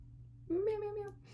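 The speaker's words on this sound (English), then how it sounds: "I have a very needy cat, and she will be in and around making noise, demanding things quite often" A pet cat indoors gives a single clear, drawn-out meow against a low steady room hum.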